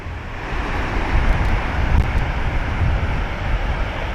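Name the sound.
heavy ocean surf at high tide on Vero Beach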